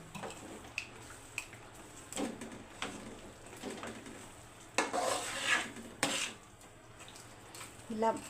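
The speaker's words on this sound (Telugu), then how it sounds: "దీన్ని నేను 2-3 సార్లు కింద కలుపుతాను ఇందులో పాకాన్ని." A spoon stirs sugar syrup for chikki in a pan, making scattered scraping and clinking strokes that grow louder in the middle, with faint bird calls in the background.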